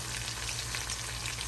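Food frying in a pan ahead of the cabbage going in, giving a steady, close sizzle with a soft crackling hiss that holds even throughout, with no voices.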